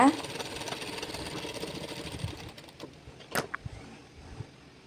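A sewing machine stitches a blouse with an uneven, rattling mechanical whir that fades and fluctuates, close by, followed by a few sharp clicks and light handling noises, with a voice talking over it.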